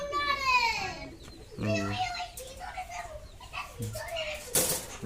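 Pigeons kept out in the sun coo in soft, low bursts, mixed with bird calls and close chatter from people talking over them.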